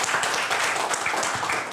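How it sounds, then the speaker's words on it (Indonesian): A crowd claps steadily, a dense wash of applause with no voices over it. "ya tepuk tangan dulu dong buat kita semua."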